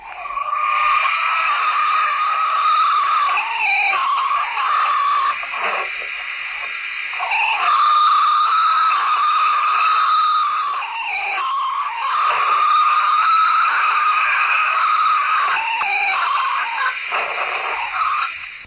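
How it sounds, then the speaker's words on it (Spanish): Eerie, wavering high-pitched calls attributed to a Bigfoot rise and fall over a constant forest background, captured from a police patrol car's ambient microphone, moderately loud and sustained throughout. "fue la primera gran grabación de un Bigfoot que se había conseguido en sonido"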